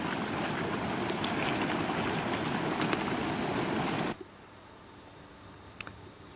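A loud, dense hiss and rumble of boiling water and venting steam at Hell's Gate geothermal area rolls on steadily, then cuts off abruptly to quiet background with a few faint ticks.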